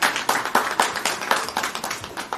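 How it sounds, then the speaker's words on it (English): Convention audience applause at a national electronics and telecommunication engineers' event, a steady patter of many hands clapping close by for a couple of seconds. "Ladies and gentlemen, please give a huge round of applause."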